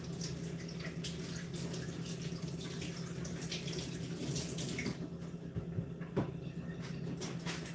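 Vegetables rinsed under a running kitchen tap for a stew, a steady gentle stream of water with small splashes and drips, fairly quiet and close, with no talking.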